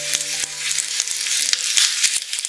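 Peanuts, urad dal, pepper and curry leaves frying in a hot tempering for curd rice, a loud, dense crackling sizzle with sharp pops scattered throughout, close up.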